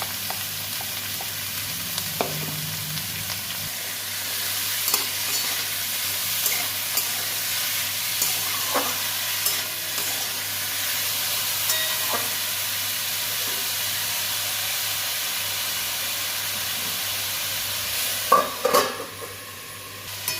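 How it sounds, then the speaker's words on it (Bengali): Carrot, potato and bean pieces fry in a pan, giving a steady low sizzle with occasional stirring scrapes and a louder clatter near the end, with no talking. "ঢাকা খুলে দেখে নিলাম সেদ্ধ হয়ে গেছে ভাজা ভাজা করে নেব"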